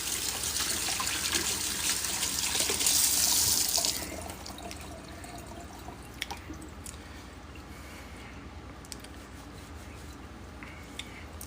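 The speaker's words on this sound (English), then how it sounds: "let me rinse my hands real quick" Hands are rinsed under a running kitchen tap, a bright splashing gush for about four seconds before the flow cuts to soft drips and light squishy handling sounds.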